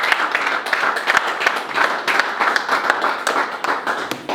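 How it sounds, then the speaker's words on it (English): Audience clapping for a mentor at the Cambridge DEWEY Mentorship Program, a lively crowd of hands clapping at close range, steady and loud with a slightly uneven rhythm, alone without talk. "Can we clap again for our great mentor?"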